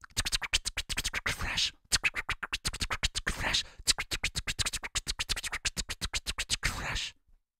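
A voice rapidly imitates turntable scratching with quick rhythmic bursts of breathy scratchy syllables, in several fast runs separated by brief pauses.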